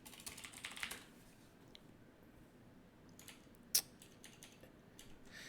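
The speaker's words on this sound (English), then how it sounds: "And we could start typing code." Typing code on a computer keyboard: soft, quiet clusters of key clicks, denser at the start and again toward the end, with one sharper tap standing out, no voices.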